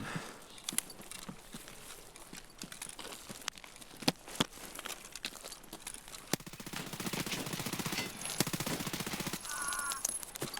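Gunfire in the SPT Escape from Tarkov shooter comes in scattered sharp shots and short bursts over a steady outdoor ambience, with crow-like caws in the background and a few footsteps.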